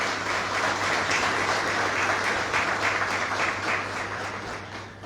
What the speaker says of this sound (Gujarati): આપણે ખૂબ તાળીઓથી એમને આજે વધાવીએ.